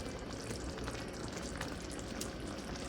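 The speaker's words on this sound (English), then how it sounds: "we're gonna let this cook down for like, sit and cook for 2 minutes until the sauce thickens" Chicken with bok choy simmers in a thickening sauce in a pan, giving a dense, steady sizzle and bubbling close up.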